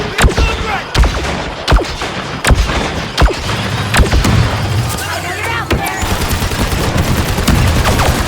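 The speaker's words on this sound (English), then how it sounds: "Laying down covering fire!" Loud, rapid bursts of gunfire rattle out in close, irregular volleys during a Star Wars Battlefront 2 match on the Takodana Fortress map in Strike mode, with sharp individual shots and thumps over a constant battle din.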